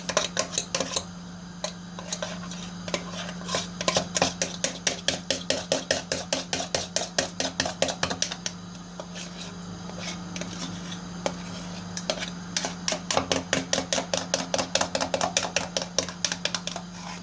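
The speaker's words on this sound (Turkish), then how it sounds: "Bunu böyle çatal ya da kaşıkla isteğinize bağlı karıştırıyoruz" A fork or spoon stirs sauce into yogurt in a bowl, making quick, steady clinks against the dish in long rhythmic bursts with short pauses, close and clear over a low constant hum.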